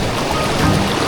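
Strong river current rushing through the Cavinti underground river cave in Laguna, a dense, loud, steady wash of flowing water heard up close, with no talk.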